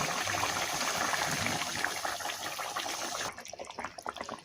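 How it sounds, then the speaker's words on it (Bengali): A pot of rohu fish curry in tomato sauce bubbles on the stove, a dense steady simmering hiss close by that thins out into sparser pops and clinks toward the end. "মাছগুলো সব দিয়ে দিয়েছি ফুটে উঠেছে"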